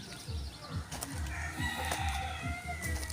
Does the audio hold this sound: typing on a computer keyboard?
no